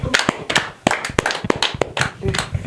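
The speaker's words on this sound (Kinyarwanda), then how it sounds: "ni mukoma amashyi" An audience claps hands in scattered, uneven bursts, sharp close claps with a voice speaking among them.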